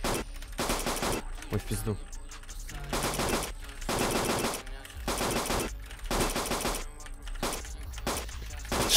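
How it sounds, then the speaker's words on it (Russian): Rapid automatic gunfire bursts in GTA San Andreas Multiplayer, loud repeated volleys with gaps between, during a long gang turf fight; a man swears briefly over the shooting. "Точнее, стрельба идет."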